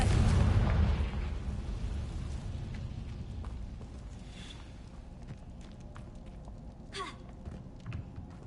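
A Confringo blasting spell goes off in Hogwarts Legacy, a loud booming explosion at the start that fades into a rumbling tail, followed by quieter ambient noise and a short sharp crack near the end.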